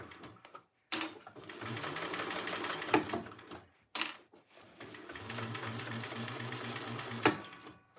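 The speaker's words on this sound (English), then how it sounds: "I'm just sewing along the top." A home sewing machine stitches along the top edge of a fabric project in two steady whirring runs of a few seconds each, separated by brief pauses, close and fairly loud, with no one speaking.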